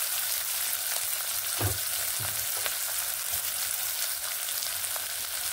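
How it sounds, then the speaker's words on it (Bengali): Chopped onions fry in a pan with whole spices, giving a steady close sizzle throughout with a few stirring clatters and scrapes; no one speaks. "পেঁয়াজগুলোকে আমি ব্রাউন করে ভেজে নেব।"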